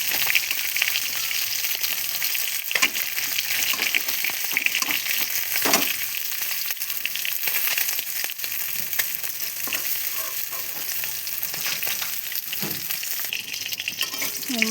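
Tilapia fish fry in hot oil with a dense, steady sizzle and crackle close by, broken by occasional scrapes and stirring clatter, and no talking.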